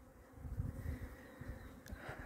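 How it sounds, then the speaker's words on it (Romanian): Honeybees buzz close to the hive entrance as they begin flying out after a long cold spell, a continuous droning hum with faint rising swells and no speech. "Albinele încep să iese."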